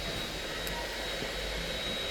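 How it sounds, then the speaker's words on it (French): A vacuum cleaner runs inside a clothing store, a steady, fairly faint whooshing hum throughout with no speech over it. "ils sont en train de passer l'aspirateur"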